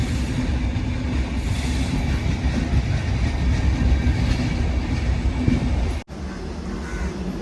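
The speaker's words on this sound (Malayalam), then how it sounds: "ലൂപ്പിൽ പതുക്കെ ട്രെയിൻ വന്ന് കയറിക്കൊണ്ടിരിക്കണം" The Dhanbad Alappuzha Express rolls slowly into the loop line at Wadakancheri station, a steady close rumble of wheels and coaches with faint clatter, cut by a brief dropout near the end.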